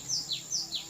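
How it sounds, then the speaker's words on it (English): Four quick high chirps in an even rhythm, a small songbird calling clearly against a quiet background. "and I listen to the songbirds."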